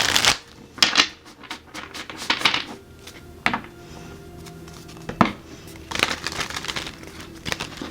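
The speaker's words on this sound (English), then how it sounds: "One more shuffle for Gemini." Tarot cards being shuffled in quick riffling bursts, several brisk flurries separated by short pauses, close and fairly loud.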